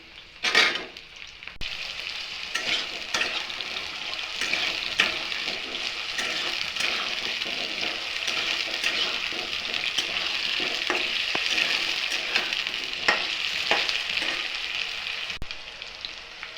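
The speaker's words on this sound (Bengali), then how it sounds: "আলুগুলো অল্প ভাজা ভাজা হবে।" Potatoes and chopped onions fry in a pan, producing a continuous, fairly loud hiss and crackle that runs unbroken with no voices.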